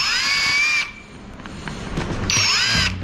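An electric drill boring a hole in a plastic ceiling for a smoke alarm, two loud whining bursts with a pause between them.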